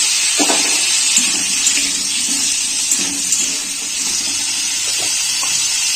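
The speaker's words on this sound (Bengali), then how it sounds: "আলুগুলোকে আমি এবার কড়াতে দিয়ে দেবো ভাজার জন্য" Potatoes and chopped onion fry in a kadai for a potato curry to go with Mughlai paratha, a steady loud hiss and sizzle of oil that continues throughout, with faint clinks of a spatula against the pan.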